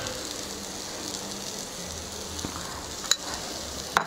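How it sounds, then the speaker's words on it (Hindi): Boiled chickpeas frying in a pan crackle and sizzle steadily nearby, with a couple of sharp ticks of a spoon against the metal near the end. "चना अच्छे से फ्राई हो चुका है"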